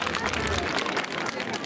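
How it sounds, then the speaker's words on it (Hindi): Loud applause from the audience at a school annual function in Chamba, a dense steady wash of many hands clapping together with a murmur of crowd noise underneath, sustained throughout. "एक बार बच्चों हमारे विद्यालय के प्रधानाचार्य महोदय और अपने गुरुजनों के लिए जोरदार तालियों"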